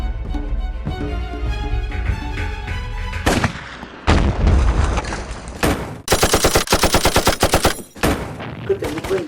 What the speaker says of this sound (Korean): 박격포 먼저 쏘고 기관총으로 함정 지휘탑을 파괴해